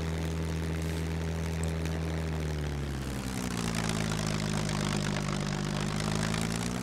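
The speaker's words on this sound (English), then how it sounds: "the sound of the engine will attract them" A float plane engine in the video game SCUM drones steadily and continuously. Its pitch shifts and drops partway through, then settles into a fuller hum, with no talking.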